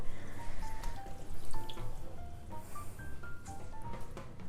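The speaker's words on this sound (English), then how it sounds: "I'm gonna wring out all the water" Water drips and trickles from a wrung-out paper towel in a kitchen, a quiet run of irregular small plinks and splashes spread over a few seconds, with no talking.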